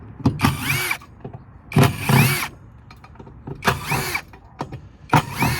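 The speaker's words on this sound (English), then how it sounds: "Take that off with a nut driver." A nut driver removes part of an MRI power supply, with close whirring bursts from a powered driver spinning in short repeated runs separated by pauses and small clicks.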